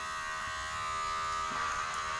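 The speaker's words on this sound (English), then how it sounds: "we're gonna take the clipper and go" Hair clippers buzz with a steady, close electric hum while cutting hair for a mullet, the tone shifting slightly as the blade meets the hair.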